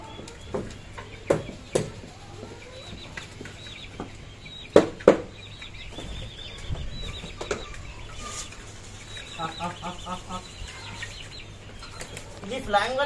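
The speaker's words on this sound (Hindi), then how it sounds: "अब कबूतर निकालता हूँ जल्दी से।" Pigeons being released from a coop flap their wings in several sharp bursts, mixed with clucking chickens and other farmyard bird calls nearby. A voice talks faintly in the background.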